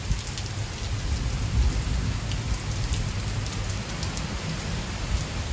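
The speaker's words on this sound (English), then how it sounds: "Thunder. Lots of thunder." Steady rain falls through a thunderstorm whose worst has moved east, a dense even patter with low rumbling thunder underneath throughout.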